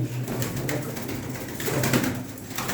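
Soft, repeated cooing of pigeons or doves, fairly close, over a steady background hum, with no talking.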